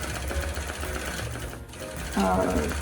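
A longarm quilting machine stitches a Dream Big panel quilt with a rapid, steady needle chatter close by that grows louder near the end, with some talk over it.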